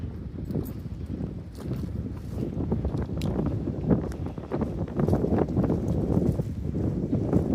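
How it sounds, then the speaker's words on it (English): Strong wind buffets an outdoor spot in North Austin on a brisk day, rumbling and gusting steadily and growing a little rougher toward the end, with no voices. "It's very windy."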